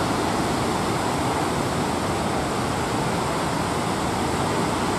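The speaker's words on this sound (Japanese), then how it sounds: "白波が滝のように流れております" Heavy water from a dam's snowmelt discharge rushes and roars in a dense, unbroken wash, loud and close, with no voices.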